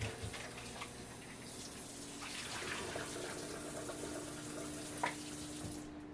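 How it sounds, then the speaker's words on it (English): Raw chicken being rinsed under a running kitchen tap, with a steady stream of water splashing into the sink and a few louder splashes as the meat is handled, heard up close with no talking. "I'm washing my chicken."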